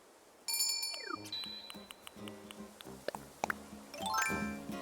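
A timer alarm from the video game Animal Crossing: New Horizons rings as a bright chiming jingle of rising and falling tones, repeating over several seconds at moderate volume with no talking.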